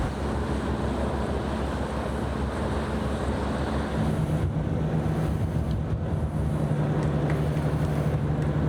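The North Shields to South Shields ferry approaching, a steady low engine drone and churning water rumble under wind noise, with a faint tonal hum growing in the second half.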